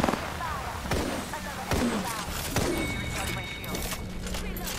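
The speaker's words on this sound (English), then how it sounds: "Who's throwing grenades?" Several explosive bangs from grenades in an Apex Legends battle arrive at intervals, sharp broadband blasts with a noisy gunfire backdrop and a player talking over the action.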